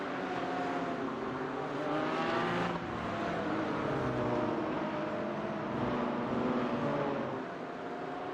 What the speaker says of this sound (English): we can see the cars on the pace lap